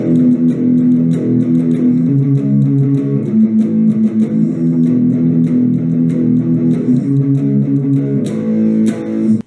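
Electric guitar plays the pre-chorus of a song, steady chugging chords with a slightly distorted tone, repeating in an even rhythm for about ten seconds, alone with no talk.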